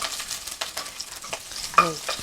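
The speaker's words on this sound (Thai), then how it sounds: "เจียว กระเทียมก่อนค่ะ" Garlic stir-frying in a hot pan for home-style pad thai, a soft continuous sizzle with scraping spatula stirs and a few brief clinks, close and fairly quiet.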